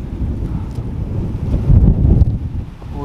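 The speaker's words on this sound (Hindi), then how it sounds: "ये हवा कैसे चलने लग गई यार इस पेड़ के नीचे आते ही" Strong wind gusts roar under a tree in a forest, a close, heavy rumbling rush that swells in the middle and dips near the end.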